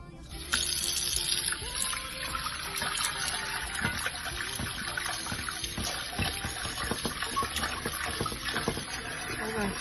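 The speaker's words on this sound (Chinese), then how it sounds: "我要开始洗碗了。" Tap water runs steadily into a kitchen sink during dishwashing, with continuous splashing and clinks of dishes close by.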